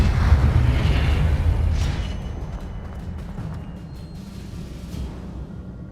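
A Confringo fire spell from the Hogwarts Legacy video game erupts in a loud, rumbling explosion with a heavy low boom that fades after about two seconds, leaving a lingering fiery rumble and smaller bursts.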